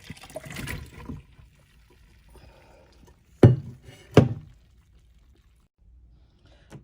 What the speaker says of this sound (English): I'm just going to pour everything, my broth, the vegetables, all into the colander to drain